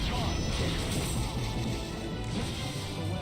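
Glass shatters with a crash during a Dissidia 012 Final Fantasy battle, a dense, steady burst of smashing and clattering that stays loud for the whole few seconds over busy game noise.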